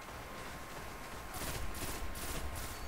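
Aegis of the Reef pulse rifle, a fast-firing weapon in the Destiny game, shooting in a Rumble match: rapid bursts of gunfire that rise partway through and repeat in a steady rhythm against a low background.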